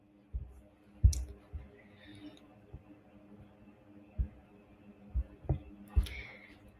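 Computer mouse clicks while working in Shopify, a handful of sharp, close, isolated clicks spaced irregularly with quiet gaps and faint background hum.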